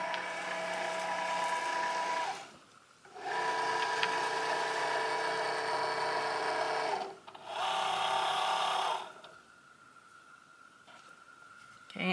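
A Cricut cutting machine whirs loudly as it feeds a cutting mat, running in steady motorized stretches broken by short pauses.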